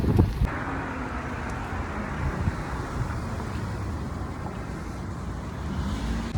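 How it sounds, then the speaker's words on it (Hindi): Strong freezing winter wind blows outdoors in Canada at about -20 degrees, a steady roaring broadband rush with constant buffeting against the microphone, loud and continuous throughout. "बहुत ही खतरनाक हवा चल रही है, इससे ज़्यादा रिकॉर्ड नहीं कर पाऊंगी"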